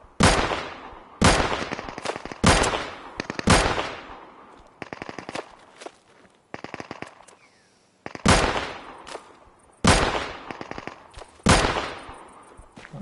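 A Dragunov rifle firing in the video game Deadside: loud, close single shots, each ringing out in a long decaying tail, spaced about a second apart in two groups with quieter clicking between them.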